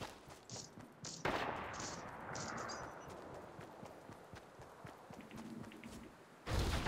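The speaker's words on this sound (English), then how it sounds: "Having a sniper war." Distant sniper rifle shots in a video game, several sharp cracks over a busy game soundscape, the last one louder and nearer, with no talking.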